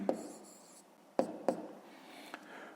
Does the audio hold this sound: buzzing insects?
no